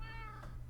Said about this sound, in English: Shut up, kitty.